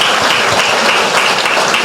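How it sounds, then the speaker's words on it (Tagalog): Loud, dense applause from a church congregation, steady clapping filling the room throughout with no break. "Malakas sa palakpak para kay Lord."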